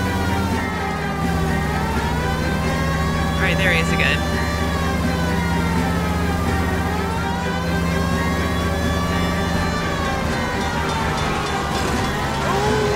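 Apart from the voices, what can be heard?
police car siren during chase in video game LA Noire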